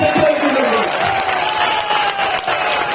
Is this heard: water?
no